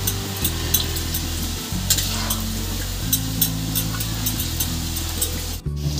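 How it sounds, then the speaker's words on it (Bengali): Thin strips of cut roti fry in hot oil, giving a steady close sizzle with light spattering and occasional stirring clinks, and no voices. "সরু করে কাটা রুটিগুলোকেও এবার আমি ভেজে নেব"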